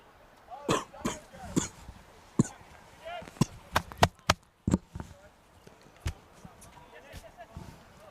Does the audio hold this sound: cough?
yes